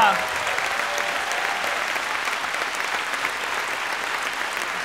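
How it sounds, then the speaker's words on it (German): Loud, dense applause from a large crowd at a poetry slam at the Roxy in Ulm, steady throughout and unbroken by any single voice. "Ich bitte euch, ihn würdig hier zur Bühne zu geleiten mit einem tosenden Applaus"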